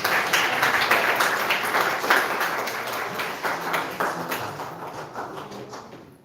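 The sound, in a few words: applause at a memorial service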